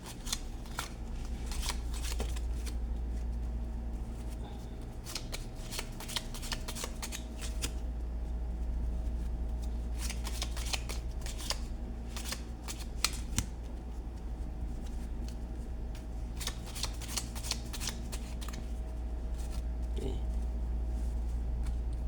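Playing cards are shuffled repeatedly close by in a magic trick, bursts of riffling and snapping in rapid clusters over a steady low hum, with brief pauses between shuffles.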